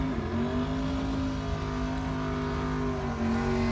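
A drag racing car called the Okie Dokie Fire Chicken roars at a New Year Nationals event with a loud, sustained engine drone that shifts pitch slightly as it pulls down the strip.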